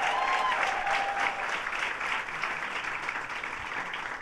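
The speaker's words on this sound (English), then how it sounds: "Let's give Glenda a big round of applause" Steady audience applause at a governor's health care announcement, dense clapping from a large crowd holding at an even level for several seconds with no voices on top.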